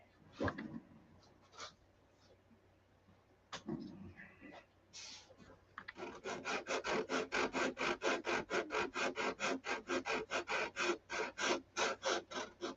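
Rhythmic strokes of 180 grit sandpaper rubbing back and forth over a surface, a steady run of close, even rasping passes after a few scattered scrapes, with a brief voice early on.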